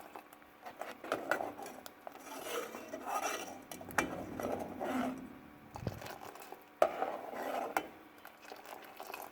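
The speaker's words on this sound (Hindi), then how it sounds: "अच्छे से हम मिक्स कर लेंगे।" Energy milk being stirred and mixed, a spoon scraping and clinking against a container in irregular bursts of clatter and swirling, close and alone.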